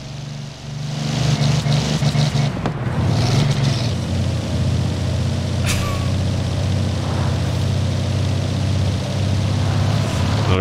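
Car engine in Forza Horizon 4 while driving on a highway and downshifting to second gear: a loud, continuous roaring engine drone with brief breaks and surges as gears change.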